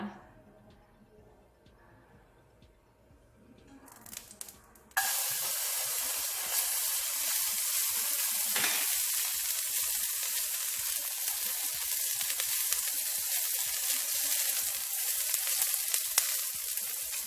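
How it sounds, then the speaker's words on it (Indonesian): Garlic sautés in a little oil over low heat in an Atomy Medicook wok: a few quiet handling sounds give way to a sudden loud, steady sizzle and hiss that continues close up to the end. "Nah, jadi kita tumis sebentar sampai keluar harumnya ya dari bawang putihnya."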